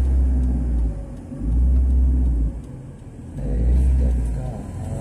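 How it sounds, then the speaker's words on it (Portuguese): Motorcycle engine revving hard as a rider pulls a wheelie on a city street in Brazil, heard as loud, deep rising surges that swell and fade in waves, with people talking nearby. "E o cara empinando moto, ó."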